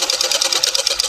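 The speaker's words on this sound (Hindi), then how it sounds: "ये साइड से हम साइड की सिलाई कर रहे हैं अभी हम" A sewing machine runs steadily up close, stitching a side seam on fabric with a fast, even mechanical chatter throughout.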